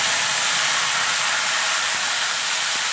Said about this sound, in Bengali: এবার দিয়ে দেবো আদা কাঁচা লঙ্কা।